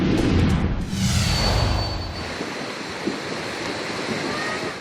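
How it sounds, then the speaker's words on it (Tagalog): Strong floodwater rushes beside a creek in Barangay Solo, Mabini, Batangas, a continuous loud roar of churning water mixed with wind buffeting the microphone. "Ganito kalakas ang agos ng baha sa Barangay Solo, Mabini, Batangas."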